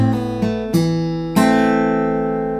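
Acoustic guitar playing a Travis picking lick, four plucked notes and chords ringing out in quick succession, with the last one sustaining and slowly decaying, close and clear, no voices.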